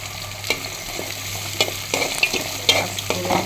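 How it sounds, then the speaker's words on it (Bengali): Fish heads sizzle and fry in a pan on a stove, with steady crackling broken by intermittent stirring and scraping sounds close up. "মাছের মাথা ভাজতেছি, মুগ ডাল দিয়ে রান্না করবো।"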